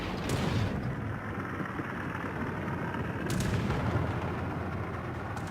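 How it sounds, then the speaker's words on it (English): Anti-aircraft guns fire at torpedo and dive bombers in the naval video game World of Warships, giving a dense, continuous rumbling barrage of distant booms and muffled blasts that holds steady throughout. "I've been firing at these torpedo and dive bombs for a good minute or two now"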